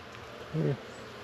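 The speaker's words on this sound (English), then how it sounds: "So I'm seeing a couple of bees." A brief buzz of a bee or two rises close by for a moment against faint background noise.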